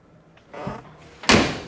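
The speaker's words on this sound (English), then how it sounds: "Look at how well that door shut." A 1957 Chevrolet Bel Air door clicks and then slams shut with a solid, close thud, preceded by faint rattles of the handle and latch.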